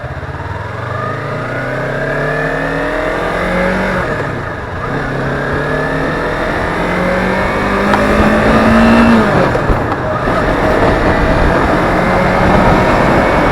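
A motorcycle pulls away slowly on a half-engaged clutch, its engine rising and falling in smooth revs with gliding harmonic sweeps, close and steady and accompanied by a car engine, with no talking.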